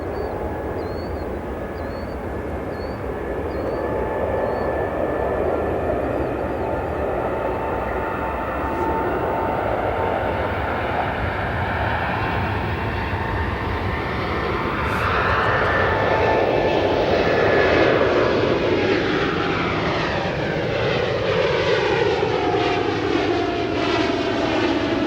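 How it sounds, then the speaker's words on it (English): Boeing 787 with GE NX jet engines roaring on takeoff departure from O'Hare Airport, a loud sustained broadband rumble that swells and shifts pitch as the jet climbs past, with no talk over it. "Listen to these GE NX engines roar."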